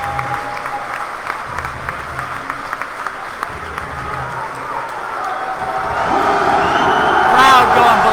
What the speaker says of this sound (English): Crowd going ballistic.